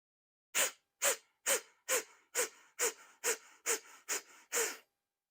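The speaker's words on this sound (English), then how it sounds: "So that was 10 quick breaths." Ten quick, forceful breaths pushed out through the nose during a yoga class breathing exercise, sharp evenly spaced bursts about half a second apart, close and clear with silence between them.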